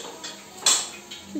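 A pressure cooker opened in a home kitchen during Diwali festivities, giving one sharp metallic clank of the lid followed by a short ringing and a faint hiss. The sound stands alone and close.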